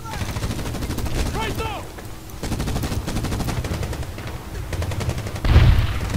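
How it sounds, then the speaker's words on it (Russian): A machine gun fires in a Medal of Honor battle against Taliban fighters, with rapid, loud bursts over the game's noisy soundscape, several sustained volleys, and a heavy explosion-like thump near the end. "Пулемет сейчас покажет свою силу."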